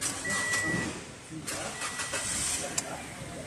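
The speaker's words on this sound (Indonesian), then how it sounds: "Kita hidupkan mesin." A car engine cranks and starts in a workshop bay during a periodic service with the car up on a lift, giving a steady broadband engine rumble with a few sharp transients, fairly quiet and even throughout.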